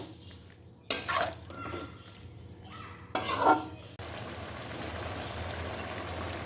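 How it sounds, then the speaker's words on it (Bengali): Spice paste is stirred with potato and young jackfruit in a pan after a little water goes in, with two bursts of metal spatula scraping and clatter, then a steady low sizzle. "এবার দিয়ে দেব অল্প জল এবার ভালো করে মশলাটাকে এর সাথে এবারে কষাবো আলু আর এঁচড়ের সাথে"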